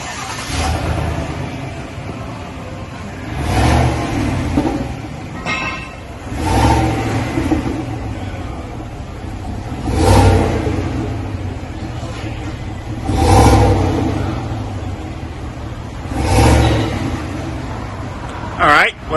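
A 2020 Chevy Silverado Trail Boss with its factory muffler and stock resonated tips revs repeatedly, about six swelling engine pulls spaced a few seconds apart over a steady idle rumble, loud and close.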